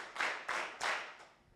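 Audience claps together four times in an even rhythm at a summit gathering, each clap a sharp burst from many hands, with the last one softer and trailing off.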